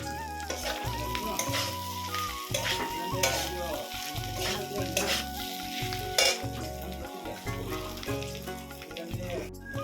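Jackfruit pieces and oil-fried potatoes stirred into a sizzling spice paste in a pan, with a spatula scraping and knocking rhythmically against the metal over a constant close frying crackle.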